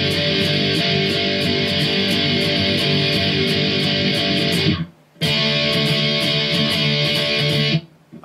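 Distorted electric guitar chugging a verse riff: steady, loud palm-driven chords with a brief gap near the middle, then playing resumes and stops near the end, with no voices.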